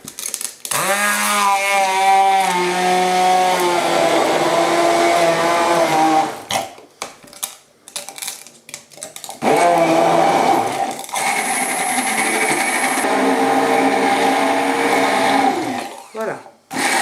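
An immersion blender purées fresh strawberries with a spoonful of sugar, a loud buzzing whir running in two long bursts separated by a brief stop.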